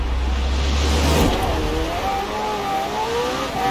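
McLaren Senna racing in the video game Forza Horizon 4, a loud engine roar that holds low then rises into a climbing rev, close and continuous with no voices.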